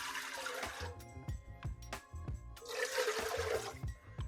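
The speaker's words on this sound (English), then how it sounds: "So into the saucepan, I'm going to add 4 cups of water." Water runs steadily from a tap into a saucepan for a homemade vegetable soup, a continuous rushing and splashing pour that changes tone as the pan fills, close by with clattering kitchen sounds mixed in.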